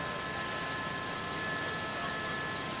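An LAPD helicopter circles over a Los Angeles car chase, producing a steady, distant rotor and engine drone that holds even and unbroken throughout.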